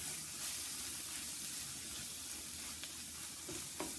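Onions caramelizing in a pan sizzle in a dense, even hiss while a spoon stirs through them, close and moderately loud, with a couple of brief scrapes near the end and no voices.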